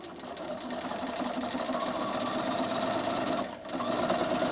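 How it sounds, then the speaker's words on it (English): A Bernina sewing machine fitted with a walking foot stitches through fabric binding, a steady rapid mechanical whir and clatter that runs nearly continuously with one brief dip. "So sew through here,"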